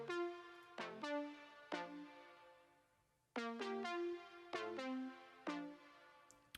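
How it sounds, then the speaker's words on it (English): A synth line in a track, with plucky, bright notes that decay quickly, in two phrases of several notes separated by a short gap, quiet and alone with no voices. "And now there is another synth playing, which sounds like this."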